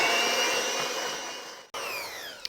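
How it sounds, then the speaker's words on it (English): An electric mixer whirs loudly and steadily as it blends eggs into chocolate cookie batter, briefly cutting out before the motor starts up again. "then we're going to blend this up"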